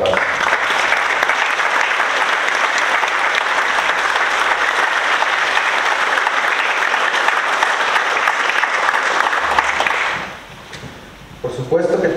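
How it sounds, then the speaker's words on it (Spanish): Warm, sustained applause from families at a diploma graduation ceremony fills the hall loudly and evenly for about ten seconds, then drops away abruptly, leaving a quieter room. "les pido que les den un caluroso aplauso a todos sus papás"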